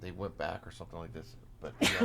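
A single sharp sneeze bursts out near the end, loud and close, following a stretch of conversational talk.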